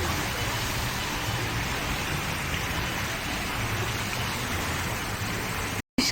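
Fountain water splashing in a church courtyard in Thessaloniki on a Christmas evening, a close, steady broadband rush of falling water with no break, ending in a brief cut.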